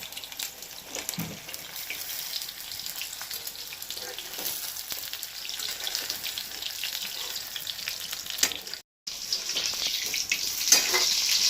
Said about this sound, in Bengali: দেখুন এটা আমার খুব সুন্দরভাবে ভাজা হয়ে গেছে